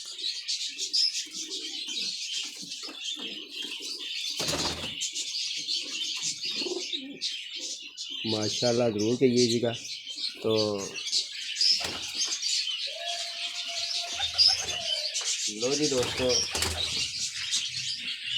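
Pigeons coo in throaty, repeated phrases from a rooftop loft while someone talks between them, with chirps and steady bird chatter behind.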